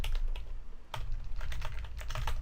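Rapid clattering keystrokes on a computer keyboard, close and fairly quiet, in uneven bursts with no voice over them.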